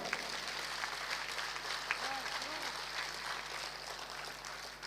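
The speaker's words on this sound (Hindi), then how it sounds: "इसरो के लिए जोरदार तालियां बजाइए" An audience at a poetry gathering applauds steadily, a dense patter of clapping held at an even level throughout, heard from some distance.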